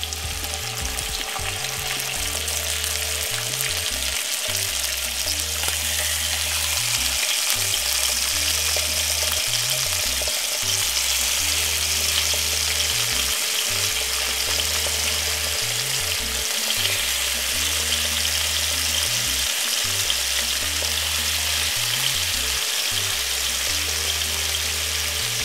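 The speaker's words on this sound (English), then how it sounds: "I'm just gonna pan fry up my bacon." Bacon strips pan frying over moderate heat, a steady close sizzle and crackle that holds throughout with no talking.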